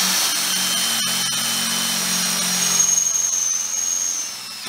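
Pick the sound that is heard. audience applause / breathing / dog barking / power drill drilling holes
power drill drilling holes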